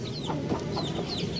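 A newly hatched group of Aseel chicks with their hen on a rooftop farm produces a faint, steady chorus of soft peeping and low clucking, continuous and close by.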